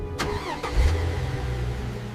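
A car engine cranks and catches with a rough, uneven sputter on a dark evening road, a few sharp bursts followed by a steady low rumble for about two seconds, with no talking.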